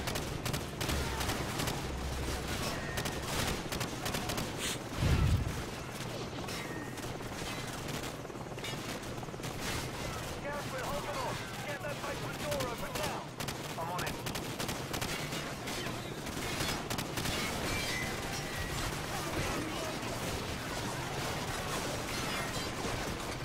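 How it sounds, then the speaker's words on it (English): Gunfire in Call of Duty 4: Modern Warfare, a dense continuous firefight of rapid automatic bursts and scattered shots that keeps a steady loud level throughout, with one heavier thump near the five-second mark. "Return fire."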